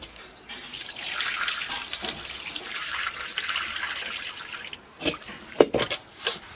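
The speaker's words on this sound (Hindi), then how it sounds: "एक बार इसका पानी भी ड्रेन कर देंगे।" Water drains and trickles steadily for several seconds from washed wheat, followed by a few clattering splashes and drips, with no one talking.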